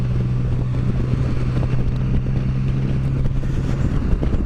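A Can-Am Spyder F3 three-wheel motorcycle cruises along with a steady, droning engine hum and constant wind rush, loud and continuous with no talk.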